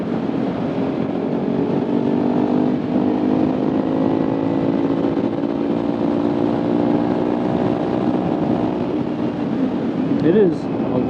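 A 2016 Kawasaki Ninja 300 motorcycle riding a lap around Grand Island, New York, its engine a steady, loud drone throughout, with a brief shift in pitch near the end.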